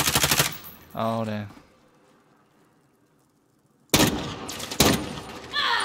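Gunfire in the video game Call of Duty Warzone: a loud close burst opens, then near silence, then sharp automatic bursts return, with a voice speaking briefly in between.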